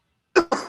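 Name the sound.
cough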